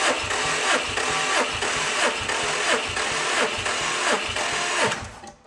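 A Subaru engine cranking over on the starter during a compression test with a weak battery, a steady rhythmic chug of even compression strokes, close and loud, winding down at the end.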